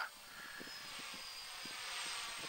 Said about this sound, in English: we're running an aerial camera over it all